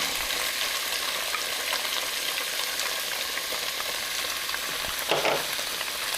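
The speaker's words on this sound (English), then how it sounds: "Mix up those nice yummy onions and green peppers." Chopped onions and green peppers sizzle steadily in a hot pan for a sloppy tofu recipe, with a constant close frying hiss and a few scraping stirs, no talking.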